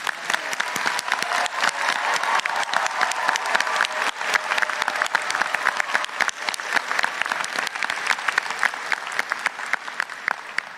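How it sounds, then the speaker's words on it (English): Sustained applause from a large convocation audience honouring graduates, dense and steady throughout with scattered sharper claps standing out, fairly loud and unbroken by speech. "let's take a moment to acknowledge our grads with a big round of applause"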